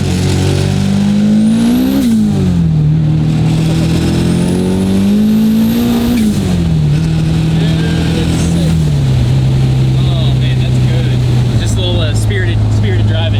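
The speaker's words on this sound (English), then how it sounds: "let's get a little spin test going. Lights them up instantly." Honda K24-swapped BMW E30 revving hard as its tires spin, loud engine pitch rising and falling in several surges before settling into a steady high drone, with people talking over it.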